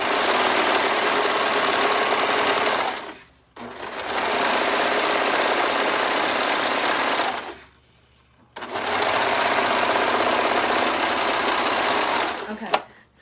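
Sewing machine running a chain stitch on a simple skirt: three long continuous whirring runs separated by brief pauses, close and loud, with a faint click at the end.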